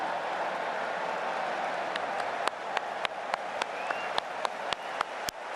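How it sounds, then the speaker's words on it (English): A stadium crowd at a Rugby World Cup 2019 match between Australia and Georgia does a Mexican wave: a broad, distant crowd roar, then sharp rhythmic claps that begin partway through and repeat steadily to the end. "Everyone keeping themselves warm, and what better way to do it than the old Mexican wave."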